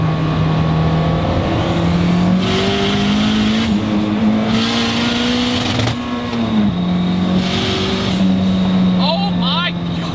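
A turbocharged Ford Escort making about 400 hp accelerates hard, its engine note rising steadily and loud through gear changes with a brief dip around midway, heard from inside the car.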